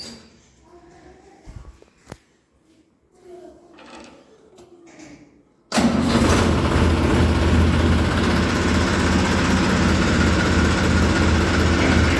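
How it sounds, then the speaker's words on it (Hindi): After a few soft clanks, a tractor's engine starts abruptly and then runs loud and steady, a dense rumbling idle close by that carries on to the end. "तो ट्रैक्टर स्टार्ट कर रहे हैं जी फटाफट।"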